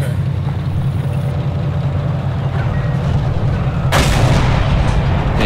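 Gunfire and heavy battle rumble in the video game Forgotten Hope 2, Operation Luttich, a loud continuous roar that swells into a harsher, brighter burst near the end.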